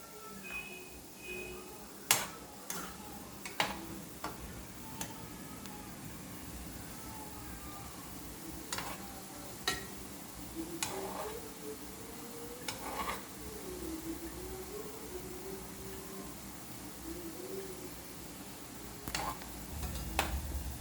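Sweet potato gulab jamun frying slowly in oil over a low flame, a soft continuous sizzle with occasional clicks and light taps from a utensil, close and fairly quiet.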